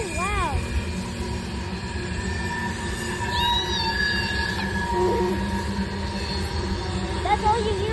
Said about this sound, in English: It's a fast train to Lita. They're supposed to go fast.